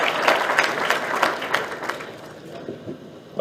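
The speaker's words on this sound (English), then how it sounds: "Please, a rapturous round of applause for him." An audience at a youth summit in Kano gives a round of applause, steady clapping from many people that tapers off after a couple of seconds.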